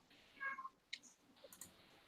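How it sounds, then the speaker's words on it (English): A house cat trying to break out of a room, a faint meow followed by soft clicks and rattles of the door, quiet and off in the background. "Cubby's cat is literally trying to break out of his room with such gusto"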